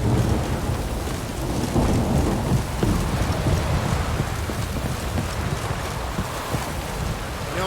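Heavy rain pouring steadily in The Witcher 3, a dense continuous hiss with low rumbling like distant thunder underneath, loud and unbroken from start to end.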